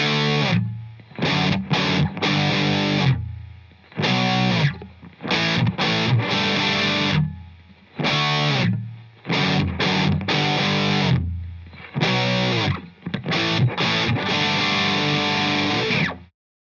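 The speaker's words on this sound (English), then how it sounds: "now we're going to take a look at the distortion." Heavily distorted electric guitar through a Valeton Dapper Mini effects pedal plays chords in bursts separated by short pauses, thick and saturated with a processed, effected tone.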